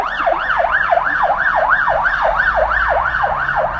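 A fire and rescue vehicle siren wails loud and close, sweeping up and down in a fast, regular cycle of about three sweeps per second.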